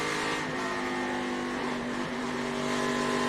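Race cars at an ARCA Menards Series event roar steadily around the track, a dense, continuous engine drone with layered tones from several cars running close together, loud and unbroken.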